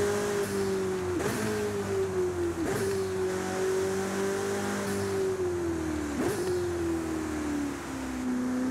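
Engine of a 2014 Ferrari California T with a seven-speed automatic in Forza Horizon 5, a loud, steady engine drone rising in pitch and falling sharply at several quick gear changes as the car keeps accelerating.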